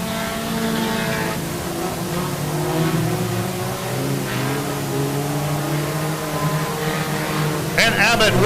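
IMCA sport compact race cars roar around the Quincy Raceways track, several engines droning and revving together at close range, with a rising burst near the end.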